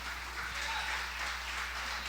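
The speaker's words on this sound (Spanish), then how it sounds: "Nuestro Señor Jesucristo, le damos aplausos fuertes al Rey." A church congregation applauds at a devotional service, a steady, fairly faint wash of clapping that holds evenly for about two seconds over a low hum.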